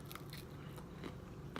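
A bite into crunchy oven-fried chicken eaten at room temperature gives a few crisp close crunches and crackles against a steady low background hum, with no talking.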